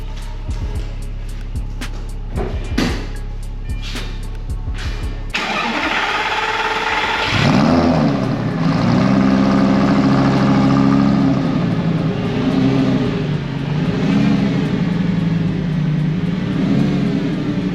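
A Lamborghini engine starts with a sharp crank and catches after a few seconds of clicking, then idles loud and close, rising in several revs that swell and fall. No voices are heard.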